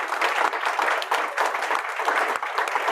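Audience applause at a tech competition's grand finale, a dense, continuous wash of many hands clapping at fairly loud volume, evenly sustained without pause.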